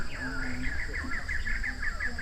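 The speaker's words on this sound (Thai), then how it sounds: "แต่ไอเสียงที่ได้ยินนี่คือเสียงนก" Forest birds call near the Nong Phak Chi wildlife tower in Khao Yai, a run of bright, repeated chirping notes in quick rhythm over a steady background hum, fairly close and clear, with no talking.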